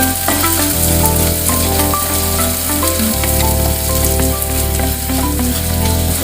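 Tomato spinach masala sautéing in a pan for garlic spinach and peas sabzi, a loud steady sizzle with stirring scrapes, heard alone with no talk.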